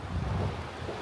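Steady wind blows across a sandy shoreline on an afternoon of fishing for grouper, a continuous loud rush with surf-like roar and microphone buffeting and no voices.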